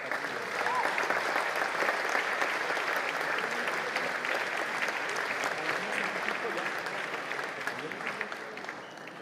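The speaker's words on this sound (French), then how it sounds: "On peut les applaudir." An audience at a festive evening celebrating an organization's centenary congress applauds people invited onto the stage, a steady, sustained wash of clapping from a large crowd lasting the whole stretch and tapering slightly at the end.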